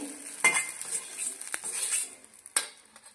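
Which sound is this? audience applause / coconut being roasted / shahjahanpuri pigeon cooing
coconut being roasted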